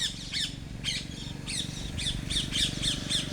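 Outdoor birds give loud, harsh squawks in a quick repeating series, several sharp calls close together over a low steady background hum.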